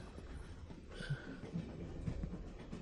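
Train running on rails inside a passenger carriage in India, a low steady rumble with soft rhythmic clacks, fairly faint and without talk.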